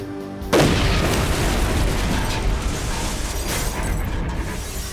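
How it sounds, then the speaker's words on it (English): A bomb blast hitting the wall of a World Trade Center tower: a sudden massive boom that swells into a long, dense roar of rumbling debris, loud and sustained. "The explosion hit the wall of the tower with a massive force"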